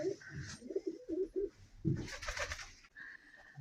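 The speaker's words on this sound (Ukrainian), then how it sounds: "Зайшла ще подивитися до голубчиків. У них все добре, вони сердяться, один з одним сваряться, туркують, воркують." Pigeons in a farmyard coop coo and grumble at each other on a sunny day, with a run of short, low, throaty coos close by, then a burst of louder, ruffled calling and soft background noise.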